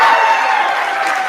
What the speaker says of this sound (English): had to get a cheap applause break there